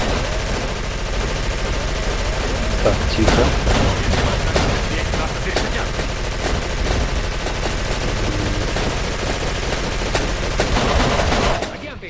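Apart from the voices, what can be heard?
stationary machine gun firing in Call of Cthulhu video game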